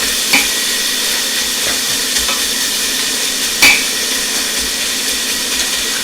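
Corn, celery, onion, carrots and potatoes browning in a pan for corn and oyster chowder, a steady close sizzle with occasional light clinks of a utensil against the pan.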